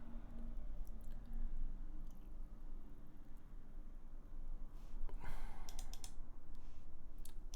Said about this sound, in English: Let's start typing.